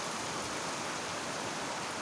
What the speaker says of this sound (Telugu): వర్షం కూడా చూడండి ఎట్లా పడుతుంది వర్షం. ఫుల్ వర్షం పడుతుంది ఫ్రెండ్స్.